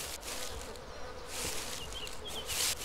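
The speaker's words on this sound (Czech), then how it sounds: "Mouchy." Flies buzzing steadily in the DayZ survival game, a continuous insect drone with faint whining tones, moderately loud and alone with no talking.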